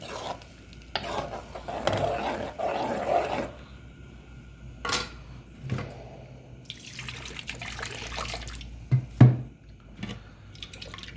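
Wet stirring and splashing in a pot as water is added to ground masala for a black chickpea curry, with liquid gurgling and sizzling in short bursts, a few sharp clinks between quieter stretches.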